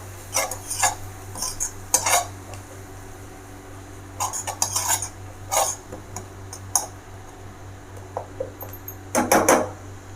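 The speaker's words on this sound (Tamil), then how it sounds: "கொத்தமல்லி போட்டுக்கோங்க, கொஞ்சம் புதினா, இதெல்லாம் போட்டுட்டு அப்படியே லைட்டாக அப்படியே எல்லாத்தையும் அப்படியே வதக்கி விட்டுருங்க" Spoon stirring a chicken mixture with coriander and mint in a pan, a few clustered scraping and clinking bursts over a steady low hum, no talk.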